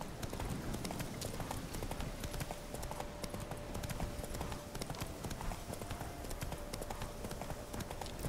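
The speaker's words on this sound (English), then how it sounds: "Come on, Roach. I gotta go for a ride here" Horse hooves clip-clop at a steady trot along a path in The Witcher 3: Wild Hunt, a continuous even rhythm over faint ambient game sound with no talk.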